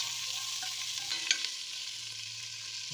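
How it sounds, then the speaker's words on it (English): Onions and peppers frying in a pan with crispy bacon, giving a steady close sizzle with a few faint stirring clicks and no talk. "Onions and peppers in at the same time,"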